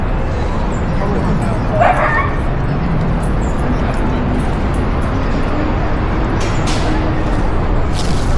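Dogs at a dog park in Madison Square Park, Manhattan, New York, give a few yips and whimpers against a loud, steady wash of city traffic and outdoor noise. Muffled voices mix in with the din.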